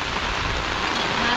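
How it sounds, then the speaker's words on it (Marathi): Rain pours steadily during rice transplanting in Devgad, a dense continuous hiss on surfaces close by, with a voice faintly underneath. "हा पाऊस आता इलो हे बघ."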